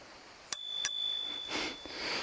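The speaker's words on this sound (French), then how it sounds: "La petite sonnette ici." Two quick dings of a bicycle bell on a DYU T1 folding electric bike, close and clear, leaving a bright ringing tone that lingers over a soft background hiss.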